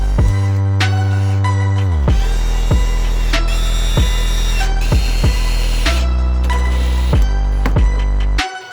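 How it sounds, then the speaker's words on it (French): Power tool working on a wooden Dadant six-frame beehive feeder, a steady loud motor whine running nearly throughout with repeated short speed changes and bursts, as a screw is driven into the wood. "Et je visse."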